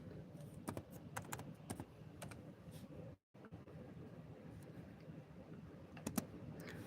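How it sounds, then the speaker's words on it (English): Quiet, fairly close typing on a computer keyboard, with steady clicking keystrokes and a few sharper key taps over a low background hum. "Oops. I'm up here typing on different stuff."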